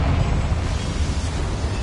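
A Confringo fire spell bursts in a small mine in Hogwarts Legacy, a loud, dense, continuous roaring rumble of explosion that fills the whole moment without pause.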